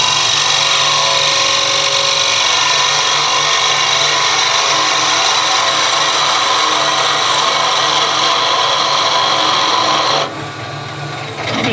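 A skew chisel takes a light cut on wood spinning on a lathe, making a loud, constant hissing rasp close by that drops away abruptly near the end as the cut stops.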